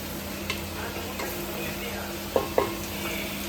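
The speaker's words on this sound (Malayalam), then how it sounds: "നന്നായിട്ടൊന്ന് മിക്സ് ചെയ്തെടുക്കുന്നുണ്ട്. അപ്പം നല്ല രീതിയിൽ തന്നെ ഒന്ന് വഴറ്റിയെടുക്കുന്നുണ്ട്." Biryani masala sautéing in a pan while being stirred, a steady sizzle broken by a few spoon scrapes and two sharper clanks against the pan.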